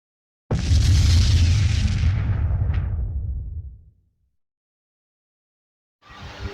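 A single heavy explosion bursts in suddenly, rumbling deep and loud before fading out over a few seconds; another burst begins near the end.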